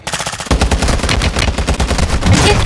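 Rapid automatic gunfire from a Call of Duty battle royale match, loud and close, with dense overlapping bursts that run nearly continuously for about two seconds after a brief quieter lead-in.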